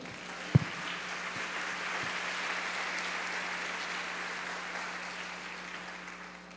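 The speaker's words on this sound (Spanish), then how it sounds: "Denle un aplauso al Señor" Congregation in a Spanish-language church service clapping in praise to the Lord, a soft, distant, even patter of many hands sustained for several seconds after one sharp louder knock near the start.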